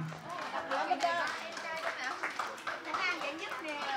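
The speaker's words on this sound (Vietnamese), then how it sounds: "quý vị một tràng pháo tay thật lớn" Applause for the winners of a Mid-Autumn Festival children's drawing contest, a steady patter of clapping from a small audience with children's voices and adult talk mixed throughout.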